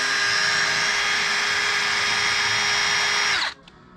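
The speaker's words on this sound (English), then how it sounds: "We get a drill right here, push it in, and we can see how fast." Power drill spinning a motorcycle speedometer cable on a Honda Trail 70, a loud steady high-pitched whine that holds evenly for over three seconds, then cuts off abruptly as the motor stops.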